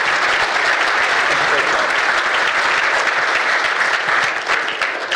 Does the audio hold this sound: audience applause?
yes